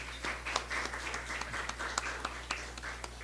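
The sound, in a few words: audience applause at archaeology conference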